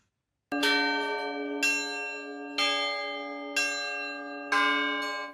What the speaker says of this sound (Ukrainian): Дзвони Покровської церкви на Січі оживають у руках дзвонаря